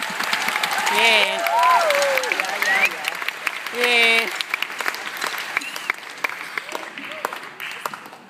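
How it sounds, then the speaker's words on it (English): An audience claps for a performing group at the Punch Bowl Festival concert, applause swelling and fading over several seconds, with a voice speaking through it near the end and tonal chimes sounding twice. "Please give them a round of applause."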